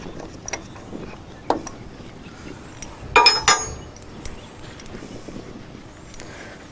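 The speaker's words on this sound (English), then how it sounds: "Take your caging tool and remove it." A caging tool removed from a truck's air brake chamber: sparse, sharp metallic clinks and clicks, with a brief cluster of louder ringing metal contacts midway through and otherwise quiet surroundings.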